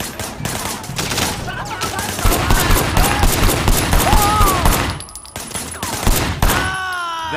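Dense, rapid gunfire fills a shooting scene in the video game Sleeping Dogs, sustained bursts like automatic weapons with a brief lull near the end, while a voice speaks over the shooting.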